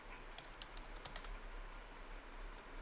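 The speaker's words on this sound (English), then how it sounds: "So we're gonna type our new password." A new password being typed on a computer keyboard, quick light key clicks in short bursts, quiet and close, with no one speaking.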